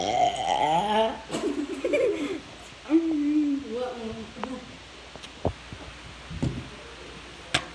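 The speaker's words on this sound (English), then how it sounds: "You stop burping." Close, drawn-out throaty burps, two long tonal belches rising and falling in pitch, followed by quieter scattered clicks and room noise.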